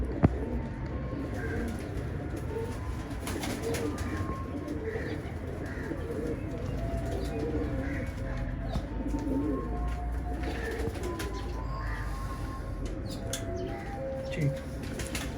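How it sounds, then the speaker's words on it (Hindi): Jurry pigeons coo softly and repeatedly in the background, mixed with scattered chirps and a low ambient hum, the calls steady but moderately distant. "ये जी एक कबूतर मैं आपको दिखाऊंगा।"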